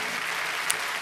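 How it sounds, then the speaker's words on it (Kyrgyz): Applause from an audience at a Kyrgyz song performance, a dense steady wash of many hands clapping throughout, fairly loud with no pauses. "Азаматсыз кол чабуулар сизге"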